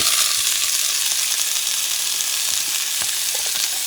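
Shrimp fry in a preheated pan over medium-high heat, giving a loud, continuous hiss of sizzling oil with a few faint crackles, close and without talk.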